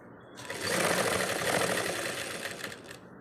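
A sewing machine runs steadily for about two and a half seconds, stitching straight down the middle of a blouse lining for maggam work; the whirring stitching starts abruptly and stops near the end, close and clear with no talk.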